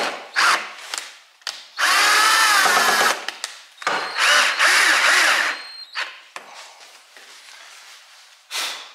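A power drill driving screws into a homemade solar air heater, in repeated loud whirring bursts of varying length, some with a rising whine, separated by short pauses and a few clicks.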